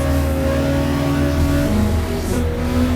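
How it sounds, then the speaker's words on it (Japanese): A Honda N360 engine lets its revs fall steadily while slowing before the Degner curve at Suzuka, a loud, close, buzzing drone that dips in pitch partway through. "デグナーカーブの手前から減速です。"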